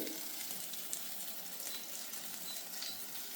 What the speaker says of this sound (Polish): I dwie minuty niech te kotleciki po prostu się dosmażą w środku